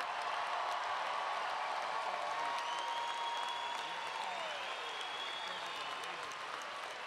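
A commencement crowd applauds nursing graduates of the Kirchhoff College of Nursing at Grand Valley State University, sustained even clapping filling a large hall, with faint voices and cheers mixed in.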